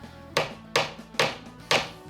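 A hammer taps a pin into a loose wooden door architrave, four sharp, evenly spaced close knocks, each ringing briefly before the next.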